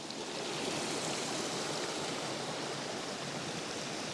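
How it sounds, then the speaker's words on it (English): A creek runs across a farm property in flood, its water rushing in a steady, loud, unbroken wash with no voices over it. "And here's the creek"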